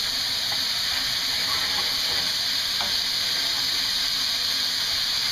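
Ground beef sizzles and crackles steadily in a pan over medium heat, a continuous close frying hiss with a few faint scrapes and no talk.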